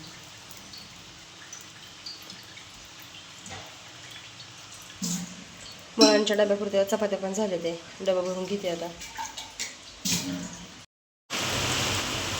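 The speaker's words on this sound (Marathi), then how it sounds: "चांगलाच पाऊस यायला लागला आता हळूहळू बारीक टिपका होता आता नेमकं पोरांच्या शाळेत जायच्या टायमाला मोठा पाऊस चालू झाला आहे" Heavy rain falling as a steady broadband wash throughout, with someone talking over it in the middle and brief kitchen knocks, the downpour louder again at the end.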